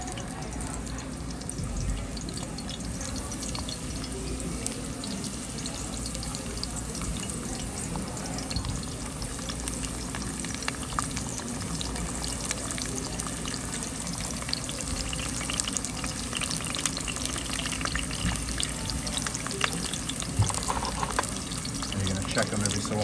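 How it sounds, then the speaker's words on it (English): Zucchini slices fry in hot oil in a pan for Spaghetti al Nerano, giving a steady, dense sizzle and crackle that stays even throughout at a moderate level. "You don't want to overcrowd these because you're basically frying the zucchini"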